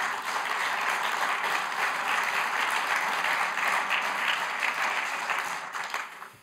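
Sustained applause from an audience at a panel discussion on the future of the chemical and pharmaceutical industry in Germany: dense, even clapping that holds steady for several seconds and then tapers off at the end, with no voices over it.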